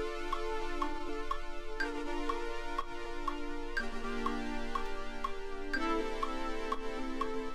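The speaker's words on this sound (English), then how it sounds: "it's got a nice stutter because of the effect tricks on it" A synth plays a repeating chord progression in a trap beat, its notes chopped into a rapid, even stutter by effects, with the chord changing every couple of seconds over a steady, clean mix.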